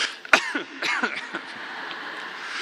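A few short coughs close by, with some throat-clearing sounds, against a steady background hiss.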